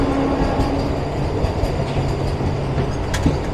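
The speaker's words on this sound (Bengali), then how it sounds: "এখন আবার বন্দে ভারত আমাদের ওভারটেক করে যাচ্ছে গুরাপ স্টেশনে।" A Vande Bharat train overtakes at Gurap station, heard from aboard a neighbouring moving train as a loud, steady rumble with rhythmic wheel clatter and faint squeals, no voices.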